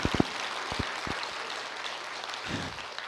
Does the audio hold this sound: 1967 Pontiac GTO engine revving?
no